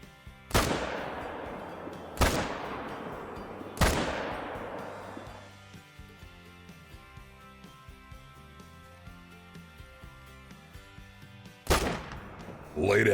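Three sharp M1 rifle shots from theHunter: Call of the Wild crack out over about four seconds, each with a long decaying tail, followed by quiet music and then a fourth loud shot near the end.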